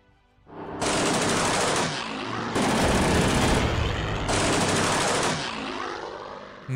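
Gunfire in the WWII strategy game Panzer Corps during the D-Day Normandy beach landings, three long loud bursts of rapid automatic fire, each lasting about a second or more with short gaps between.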